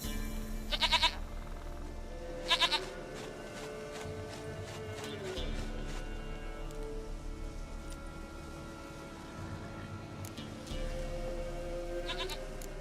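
A goat bleats a few times within The Witcher 3 game, short wavering cries over a steady bed of rain and ambient game sound, with gaps between the calls.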